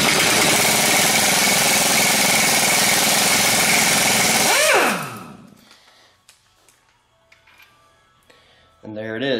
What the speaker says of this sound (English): Got the old impact out from the olden days.